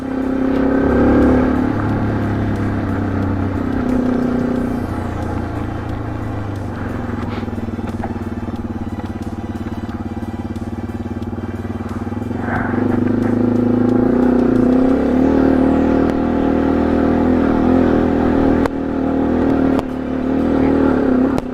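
A Yamaha TW200 motorcycle on a Capital Forest trail runs steadily and close by, its engine droning and rising in pitch as it revs and climbs a hill, with no talking.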